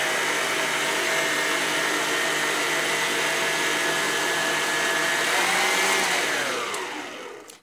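A stand mixer kneads and mixes bread dough, a loud, steady whirring motor drone with a faint rhythmic churn that holds constant, then winds down and fades as the machine is switched off near the end.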